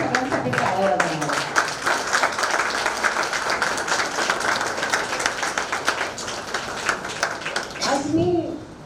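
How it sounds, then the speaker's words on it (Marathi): An audience applauding at a foundation day event, dense sustained clapping for several seconds that tapers off at the end as voices come in. "आपण सगळ्यांसाठी टाळ्या वाजवणार"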